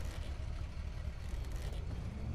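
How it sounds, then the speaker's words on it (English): A car in Dead Island that is about to break down, its engine a low, steady rumble under faint road noise while driving, quiet and unbroken throughout. "This car's gonna break down very soon now."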